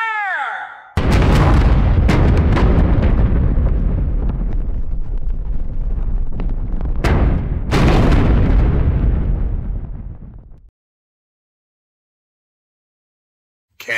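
In a War of the Worlds radio drama, an artillery gun fires with a sharp blast that swells into a long, loud, rolling roar, with a second boom midway, before cutting off into silence.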